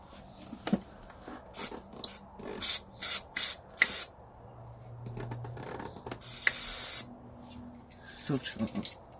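Penetrating fluid sprays onto a Honda VFR 800 motorcycle during a thermostat replacement, with a series of short, close hissing bursts of varying length separated by pauses and faint clatter and handling noises.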